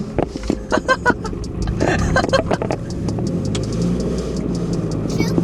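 A car with a center-exit exhaust drifts slowly across a snowy parking lot, its mid-pitched engine revving in uneven bursts with a steady rumble underneath, close and fairly loud.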